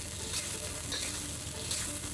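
Oysters stir-fried in a wok with ginger and scallion, with a little oyster sauce, give a close, steady sizzle and bright hiss that runs without pause, under soft scraping from the stirring.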